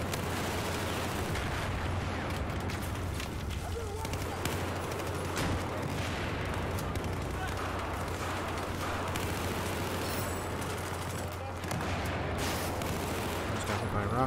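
Rapid gunfire and rocket explosions from the video game Battlefield 4, a dense, continuous barrage of shots and blasts with a steady low hum underneath, loud and busy throughout.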